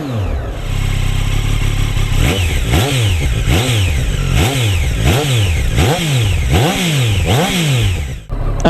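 A Triumph Street Triple 765 RS motorcycle engine runs loud and close, its revs climbing and dropping in a steady series of about eight sharp throttle blips over a constant idle.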